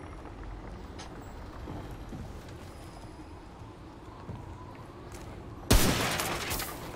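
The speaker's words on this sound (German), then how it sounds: "Dosen schießen" A sudden loud gunshot burst near the end cracks through quiet ambient noise as cans are shot in the video game Remnant: From the Ashes.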